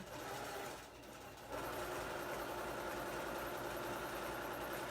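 A sewing machine stitches a half-inch seam on a tee shirt, running in a steady continuous whir with a short slower dip before picking back up to full speed, close and alone.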